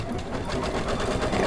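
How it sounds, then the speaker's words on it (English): An embroidery machine stitches a placement line on fabric held in a hoop, giving a brief, rapid, even mechanical chatter close by. "Now it's going to do the placement line for the fabric. It'll do a jump stitch out like that."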